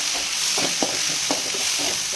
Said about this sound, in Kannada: ಈಗ ನಾನು ಟೊಮೊಟೊನ ಹಾಕ್ಕೊಳ್ತೀನಿ.